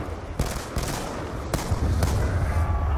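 Gunfire crackles in Black Ops 2 Nuketown Zombies, a shotgun discharging in several sharp blasts at roughly half-second gaps over a steady, busy game backdrop.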